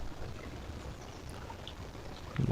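Water murmurs and flows steadily outdoors near a muddy wallow, picked up by a GardePro E5S trail camera, a faint continuous wash with no voices.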